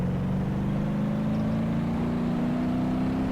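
A slammed crew cab dually pickup in a driving game cruises along with its stock engine, a steady close drone whose pitch climbs slowly as it accelerates, with no talk over it.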